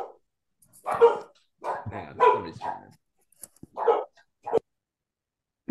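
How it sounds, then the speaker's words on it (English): A dog barks close by indoors in a string of sharp, loud barks and yips separated by short pauses. "We have a dog bark break."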